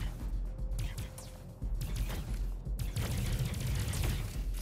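Rapid bursts of gunfire from an NFT shooter video game on Ronin, with sharp shots crackling in quick clusters beneath a voice talking over the action.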